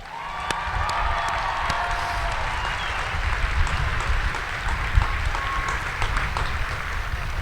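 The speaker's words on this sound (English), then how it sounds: "Let's all give MTIs another round of applause" Applause from a large crowd at a US Air Force basic military training ceremony honoring military training instructors, dense sustained clapping with a few cheers, steady and fairly loud throughout.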